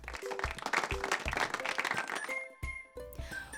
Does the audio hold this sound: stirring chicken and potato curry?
no